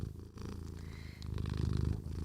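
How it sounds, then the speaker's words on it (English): A cat purrs steadily and close up, a continuous low rumbling purr that swells slightly louder toward the end, with no talking over it. "She only purrs, which is a good sign."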